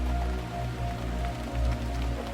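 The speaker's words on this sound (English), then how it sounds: "The rain drumming on the shingles was a rhythmic reminder of shelter." Steady rain drums on the shingled roof of a thick-walled house, a dense, even patter with a low rumble underneath, continuous and close throughout with no voices.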